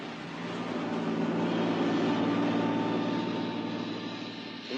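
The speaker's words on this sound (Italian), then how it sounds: "ponte aereo con velivoli dell'aeronautica, dell'esercito, della marina" Military aircraft of the air force, army and navy flying an airlift after the Friuli earthquake, heard as a steady broad engine roar that swells slightly and holds at moderate distance, with no voices.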